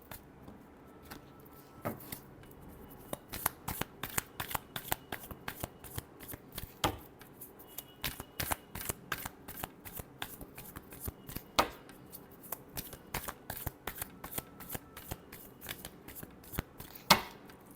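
Tarot cards shuffled by hand, a quick run of crisp riffling and slapping bursts repeating steadily for many seconds, close and fairly quiet, with no talking.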